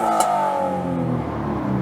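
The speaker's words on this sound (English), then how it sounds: "The level of tin and rasp in that exhaust just makes me want to jump off a bridge." Nissan Skyline 250GT with a VQ V6 engine revs loudly and close by, its exhaust giving a tinny, raspy drone that rises and then eases off, with no talking over it.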